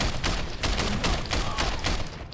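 Rapid bursts of gunfire during a funeral shootout mission in the open-world action game Sleeping Dogs, loud and near, with repeated shots crackling over a busy game backdrop.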